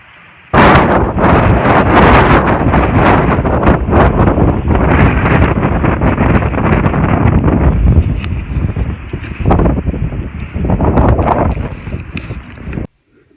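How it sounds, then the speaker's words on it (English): Heavy wind buffeting the microphone in loud, continuous gusts outdoors beside a Jeep, rumbling and roaring for over ten seconds before cutting off abruptly. "it's just too damn windy"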